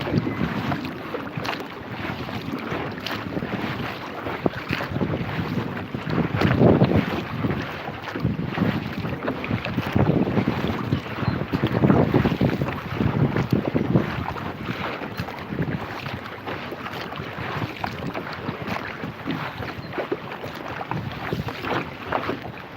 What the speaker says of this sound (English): And then I got the wind against me.